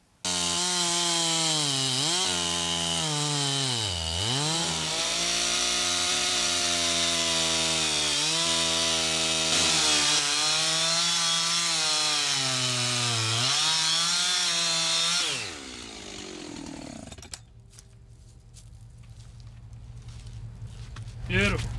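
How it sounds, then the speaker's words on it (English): A chainsaw roars steadily through an ash log, engine pitch dipping and rising under load, then winds down to a low idle sputter. "I'd like to run my chainsaw right down through there"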